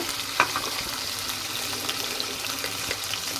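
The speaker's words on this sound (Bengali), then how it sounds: "একটু ভেজে নিব, সাথে একটু লবণ দিব" Cut meat frying in a pan while preparing a kids' breakfast dish, giving a steady soft sizzle with a faint scrape of stirring and one brief clatter near the start.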